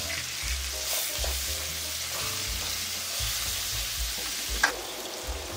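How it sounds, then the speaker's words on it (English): Onions sizzle steadily in a hot pan for a quick keto weeknight dinner, a dense, even crackle with low thumps from the pan and one sharp tap near the end, no voices. "Onions to the pan."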